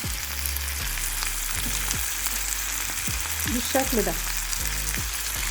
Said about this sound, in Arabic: وبقلبهم لحد ما تستوي معايا اللحمه